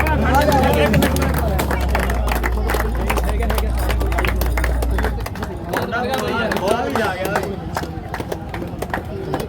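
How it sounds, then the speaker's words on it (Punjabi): An audience at a gym event at Dhillon Fitness Gym in Pakka Kalan claps steadily in a dense wash of applause, with crowd murmur and a speaking voice over it. "ਤਾੜੀਆਂ ਮਾਰ ਦੋ ਜੀ"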